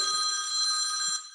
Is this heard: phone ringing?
yes